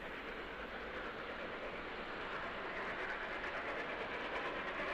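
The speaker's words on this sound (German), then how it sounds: "Sie zieht den Zug sauber weg und macht sich jetzt auf den Weg in Richtung des großen Viaduktes von Altenbeken." Steady, continuous rumble and clatter of an H0-scale model BR 44 steam locomotive hauling a 61-wagon train on a model railway layout, a dense even wash of rolling noise with no voices.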